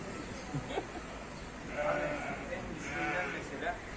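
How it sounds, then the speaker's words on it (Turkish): Lambs bleat repeatedly at a crowded livestock market, several close calls overlapping with people talking nearby. "Erkek kuzularımız var öyle."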